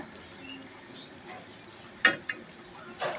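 Onion frying with cloves and spices in a pan for a duck curry gives a faint, low sizzle, broken by a few sharp crackles and pops near the end.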